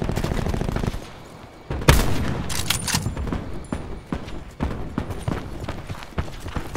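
Pistol gunfire in Black Ops 4 against bots, rapid repeated close shots and impacts cracking loudly throughout, with a brief lull early on.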